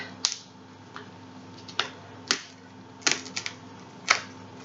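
Bottom leaves torn off an artichoke in a kitchen, heard as a handful of sharp, brief snapping tears spaced irregularly over a quiet background hum.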